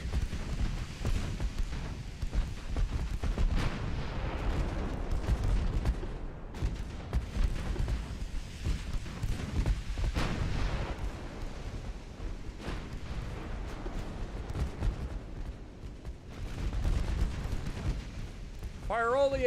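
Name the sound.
naval guns firing HE shells in a video game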